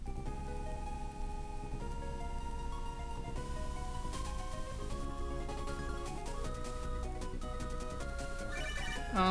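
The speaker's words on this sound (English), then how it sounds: "We have a phone call, apparently." A synthesized electronic phone ring plays continuously over Pokémon game music, steady and fairly loud, with a busy melodic tune running throughout.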